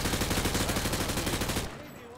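Rapid automatic gunfire from Call of Duty Modern Warfare 2, shots penetrating light cover on a training range: a dense, loud, evenly spaced stream of shots that stops abruptly, leaving a quieter background.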